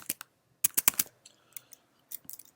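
Fingers type a git command on a computer keyboard, giving sharp close clicks in quick bursts with short pauses between, and no one speaks.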